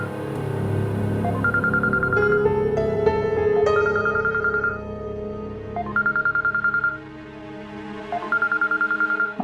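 A phone's melodic tone repeats in short bursts over a music bed, with rapid beeping tones in between; fairly loud and close, no talking.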